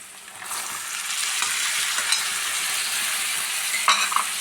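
Salt-boiled green peas tipped into a hot frying pan for a potato curry, giving a steady close sizzle with stirring scrapes and a couple of light utensil clinks near the end, no voices.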